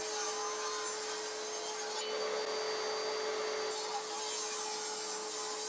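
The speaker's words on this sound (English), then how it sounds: "I chopped off a piece with a handsaw and then squared off the edges on the table saw." A handsaw rasps steadily through a piece of pine while a ukulele is being built, a continuous, close, fairly loud cutting noise with no talking.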